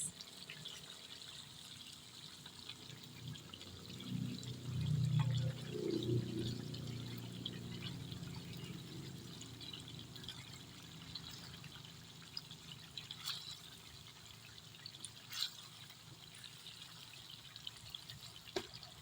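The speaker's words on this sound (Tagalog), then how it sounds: "then ibubuhos na natin dyan yung ating ginamos" Ginamos, a Visayan fermented fish paste, is poured into a pan of cooking tomatoes, giving a brief soft wet pouring and sizzling swell that fades back into faint background kitchen noise.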